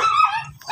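An imported beagle gives a single short, high bark with a slight yelping edge, close by and clear.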